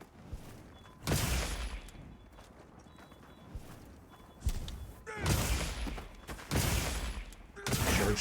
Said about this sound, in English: Charge follow up into overhead smashes.